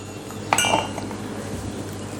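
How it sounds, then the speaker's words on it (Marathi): Chutney ingredients tipped into a mixer jar, heard as a single brief clink against the jar followed by a faint rattle in a quiet room. "आता प्रथम आपण एका मिक्सरच्या भांड्यामध्ये हे सगळं व्यवस्थित घालूयात"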